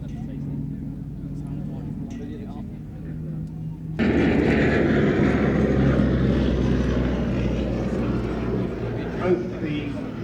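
A Gloster Gladiator biplane with its Bristol Mercury radial engine taxis at an air show, a steady low rumble that jumps louder about midway and holds, with a commentator speaking over it.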